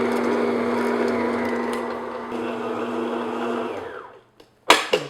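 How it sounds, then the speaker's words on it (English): A stand mixer on second speed kneads chocolate brioche dough with a dough hook: a steady, loud motor drone with a whining tone that winds down and stops, followed by a short pause and a sharp metallic clatter. "Then increase your mixer speed to second speed and beat it for an additional 3 minutes."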